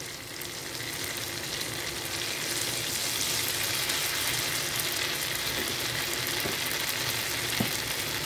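Whole and ground shrimp sizzle in hot oil in a pan. There is a steady, close, dense crackle with no voices, and it swells slightly partway through.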